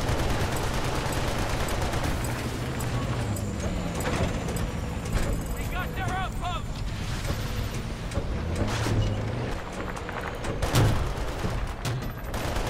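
Battlefield: Bad Company 2 Vietnam multiplayer combat, with tank cannon fire and gunfire in a dense, continuous battle mix, shots cracking out over a steady rumble while a voice talks over the action.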